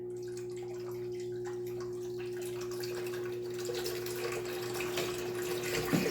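Water runs from a fixture set to its lowest flow, a thin steady stream under a constant tonal hum, growing slightly louder and more splashy toward the end, with no talking.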